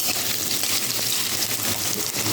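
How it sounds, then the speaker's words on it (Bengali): Potatoes frying in mustard oil in a wok, giving a dense, close, continuous sizzle and crackle at steady loudness throughout. "আলুটাকে আগে একটুখানি ভেজে দিচ্ছি।"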